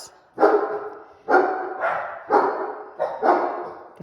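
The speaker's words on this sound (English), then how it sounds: "The dogs are excited." Several dogs bark in repeated bursts, four or five loud barks with short pauses, close by in a home while Christmas cards are being stamped.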